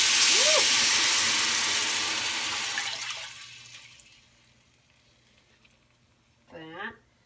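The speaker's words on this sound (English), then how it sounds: "We're going to put in 2 cups of beef" Beef broth poured into a pot where a chuck roast was just seared, a steady broadband liquid rush for about three seconds that thins and fades, followed by near silence and a brief clatter at the end.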